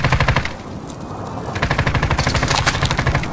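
Rapid automatic gunfire in a first-person shooter video game, loud sustained bursts of machine-gun fire that rattle almost continuously with only a brief dip in the middle.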